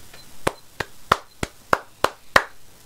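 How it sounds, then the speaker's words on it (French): Seven sharp hand claps in a slow, even rhythm, close and distinct against a quiet background with no talking. "je vous applaudis"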